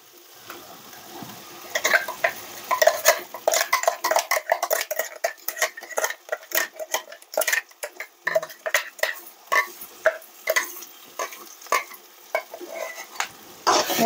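Tomato puree gravy for an egg curry is poured into a pan and stirred, giving repeated metal-on-pan scrapes and clinks with a light sizzle, close and steady throughout.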